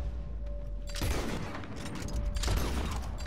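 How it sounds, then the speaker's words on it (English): Incendiary rounds fired in Red Dead Redemption 2 crack out as two loud gunshot bursts over a busy, noisy game soundscape. "I hit one with an incendiary round."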